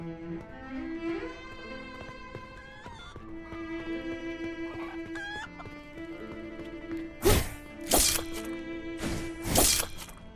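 Chickens cluck in the video game Noble Legacy: three short, loud bursts near the end rise over steady, tinkling game music, with quieter background ambience before them.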